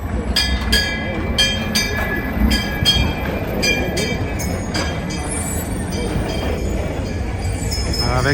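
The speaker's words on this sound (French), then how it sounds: "Avec ce tramway ancien," An old tram runs along a long street in Beijing's old quarter, loud and close, with steady rumbling, rhythmic wheel clicks and faint metallic squeals, while people talk over it.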